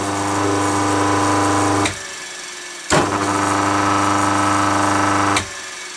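A repaired induction motor that had been starting slowly hums steadily with a strong low drone, cuts off abruptly, restarts after about a second of quiet, runs on, then stops again; no voices.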